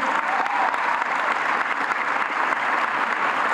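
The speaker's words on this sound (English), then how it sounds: "clap for yourselves" Sustained applause from a breakfast audience fills the room, dense and steady throughout with no gaps, a broad wash of many hands clapping at once.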